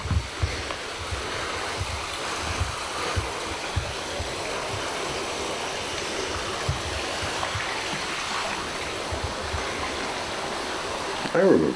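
Water of a babbling brook runs steadily over a sandy bottom at a summer camp, a continuous broadband rush close by, with no talk over it.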